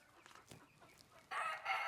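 A rooster on a farm crows once near the end, a loud cock-a-doodle-doo rising sharply after a short stretch of faint background clucking.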